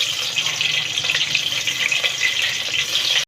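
Chopped tomatoes hit hot oil with cumin seeds in a pan and give a steady, bright sizzle that holds for the whole stretch with no talking.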